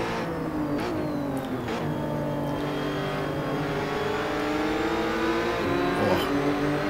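Lotus Evora race car in the Assetto Corsa racing game at Laguna Seca, its engine droning steadily near and loud throughout, with rising and falling revs and a few brief tire or shift transients, no talk.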